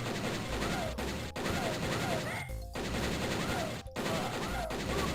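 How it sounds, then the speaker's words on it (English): Rapid, continuous gunfire in a DOS video game as the boss and his henchmen are shot, loud bursts with short gaps and game effects. "you can still shoot the boss while you're shooting the henchman"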